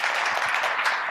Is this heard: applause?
yes